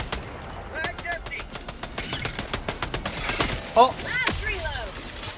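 Helldivers 2 gunfire rattles in rapid repeated shots, dense early then broken by a few louder bursts, while players shout and talk over it.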